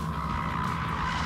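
A Porsche Taycan Turbo S Cross Turismo electric estate accelerates at full throttle, producing a steady, loud, continuous whine and rumbling road roar with no breaks.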